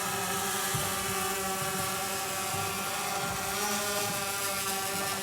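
A drone hovering overhead holds a steady, loud, tonal motor whine with dense buzzing harmonics, unbroken and without voices.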